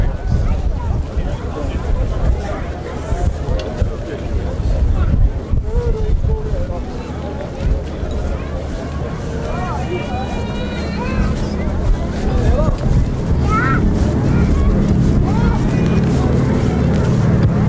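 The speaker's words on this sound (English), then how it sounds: "Den lyden vi får nå, det nydelig. Klassisk lyd av gamle stjernemotorer." Radial engines of a Douglas DC-3 Dakota flying with an AT-6 Harvard on each side drone steadily at an air show in Ski, Norway, heard from the ground under wind noise with someone talking over them.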